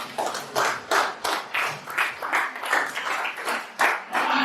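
A church congregation claps together in acclamation of Jesus Christ, loud rhythmic bursts of hand claps in quick succession, with a voice briefly speaking over them.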